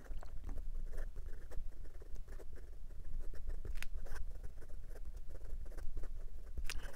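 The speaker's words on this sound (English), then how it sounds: "And for some quick writing," A Penbbs 480 Tiny Happiness fountain pen scratches quickly across paper, producing a close, faint run of soft rapid strokes and taps with small irregular clicks.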